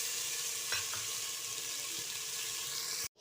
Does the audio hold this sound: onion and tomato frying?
yes